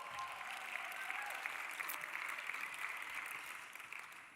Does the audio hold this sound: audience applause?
yes